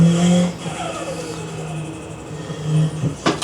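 A sim racing game car drifts through a third-gear corner after an e-brake and clutch kick, engine droning and revving with a brief tire squeal, then a louder rev near the end.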